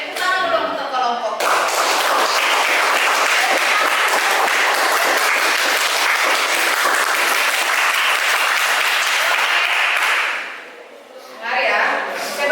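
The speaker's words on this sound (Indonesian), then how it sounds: "Tepuk tangan dulu untuk kelompok." Students in a classroom applaud a student group, with a long, steady round of loud clapping that tails off near the end, a voice briefly heard before and after.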